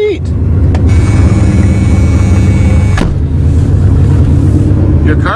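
A 1976 Chrysler New Yorker engine idles steadily just after a cold start, a loud, constant low rumble filling the whole stretch, with a brief clunk near the middle and faint voices at the edges.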